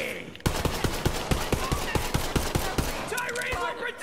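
Rapid automatic gunfire in Borderlands 3 on PS4, a loud steady burst of evenly spaced shots that gives way to a messier mix of weapon and game effects near the end.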